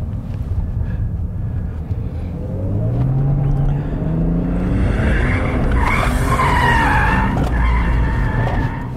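A front-wheel-drive car plows and brakes on dry asphalt, its tires squealing and skidding in long rising and falling tones over steady engine and road noise, loud and close throughout.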